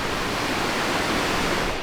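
A creek flows right beside a hotel room in Rize, giving a steady, close, full-band rush of water that stays even and continuous throughout, with no voices over it.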